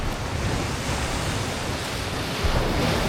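Strong ocean waves at sea during a fishing trip, a continuous heavy roar of surf with wind buffeting the microphone, loud and close, and a slight swell in intensity near the end.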